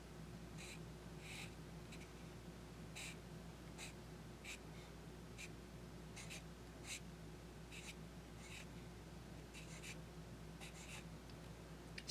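An orange pastel pencil scratching across paper in short, faint strokes, with soft intermittent scraping against a low steady hum.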